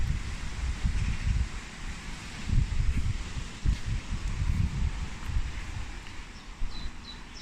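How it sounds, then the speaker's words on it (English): Gentle breeze blowing across an allotment garden in May, a soft continuous rumble of wind with rustling gusts rising and falling throughout, with no talking. "Can you hear the wind now?"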